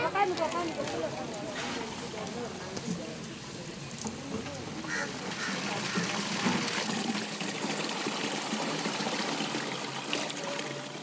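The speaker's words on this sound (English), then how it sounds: "It's 3 o'clock in the morning and the girls are at the slum water tap." Water runs and trickles from a slum water tap in India in the early-morning dark, a faint, uneven splashing stream beneath low background voices and ambient noise.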